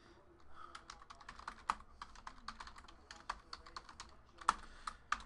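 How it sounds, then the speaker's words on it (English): Fingers type steadily on a computer keyboard, a quiet, close run of rapid clicks with a few sharper keystrokes and no talk. "Let's type in the hits."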